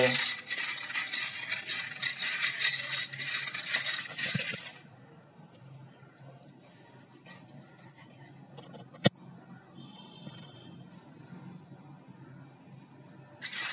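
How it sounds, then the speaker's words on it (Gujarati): Soaked chickpeas being stirred and mixed with Eno and turmeric in a bowl, a dense scraping, clinking rush for the first few seconds, then quieter occasional taps and one sharp clink near the end. "આ રીતે પલાળીને સરસ રીતે મિક્સ કરી દેવાના છે ઈનો અને હળદર મિત્રો"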